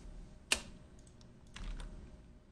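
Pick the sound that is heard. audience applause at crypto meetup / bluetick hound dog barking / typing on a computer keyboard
typing on a computer keyboard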